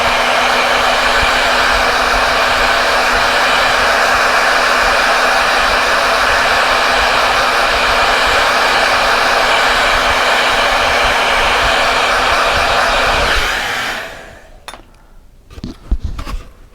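A hair dryer blows steadily and loud over a watercolor painting for about thirteen seconds, then cuts off, leaving a few faint clinks and handling taps.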